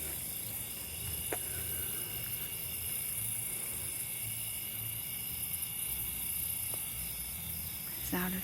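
A steady, faint high-pitched drone of cicadas fills the night air at a campground, with a low distant hum and an occasional soft click.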